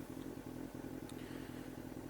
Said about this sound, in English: So engine's running, 1300 RPM seems about right.